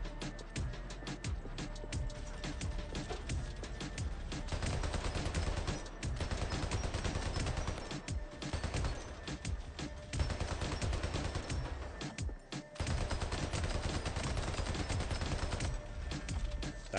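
Sustained rapid gunfire from the video game Hypercharge: Unboxed, loud and dense bursts rolling on almost without pause, with a few brief gaps, striking the player amid busy game sound.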